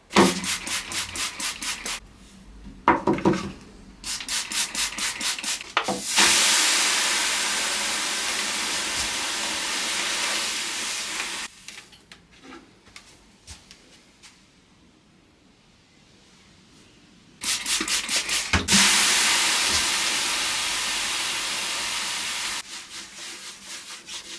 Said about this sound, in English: What I want to try and do is steam that, raise it up and sand it flat to try and match the rest of it